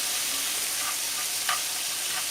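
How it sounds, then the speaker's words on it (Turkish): Tomato paste and garlic fry in a pan in a steady, dense sizzle, close and continuous, with a faint stirring scrape partway through and no talking. "Salçamı güzelce kavuracağım."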